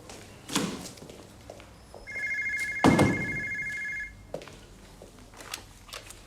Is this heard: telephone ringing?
yes